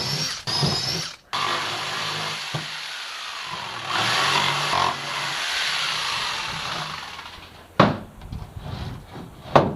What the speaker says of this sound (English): So 2 holes, jigsaw between them.